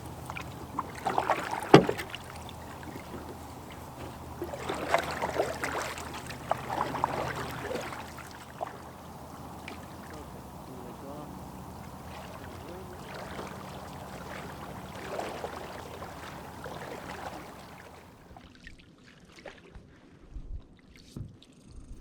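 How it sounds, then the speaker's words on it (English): Canoe paddled across a calm lake on a family Thanksgiving trip: soft rhythmic paddle strokes and gentle water swishes with light wind, a sharp knock early on, then near quiet toward the end. "It was ideal conditions for paddling as we made our way down the calm and placid lake."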